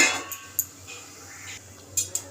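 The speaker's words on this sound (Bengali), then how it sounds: "এবার এটাকে আমি ঢাকা দেব 5 মিনিটের জন্য" A lid set down on a cooking pan after turmeric has been stirred in, giving a few short metallic clinks and clatters against a quiet kitchen background.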